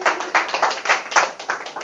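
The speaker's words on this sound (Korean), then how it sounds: "박수 한번 주십시오." Audience at a lecture concert clapping together, a brief burst of applause with uneven, pulsing bursts of hand claps, fairly close and without speech.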